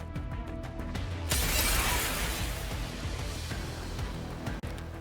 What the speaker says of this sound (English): The familiar and terrifying sound of glass breaking fills the air.